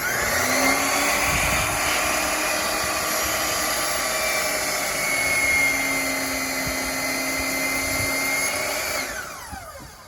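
A power saw makes a 45-degree angled cut through framing pieces held down by a small clamp, a loud sustained whine that holds steady for several seconds, then spins down near the end.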